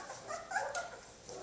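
Three-week-old Swedish Elkhound puppies give soft whimpers and small yips, faint and close, in a brief cluster of high cries.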